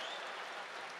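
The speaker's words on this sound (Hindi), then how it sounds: "एक बार ताली बजाओ" An audience at a poetry gathering in Raipur claps in a brief, dense burst of applause, steady and moderately loud throughout.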